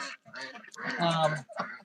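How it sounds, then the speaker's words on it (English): Saxony ducks, two drakes among a flock of females, quacking close by on a Temecula ranch, harsh bursts overlapping with a person talking. "You'll see I've got two male Saxony ducks, and the rest are females."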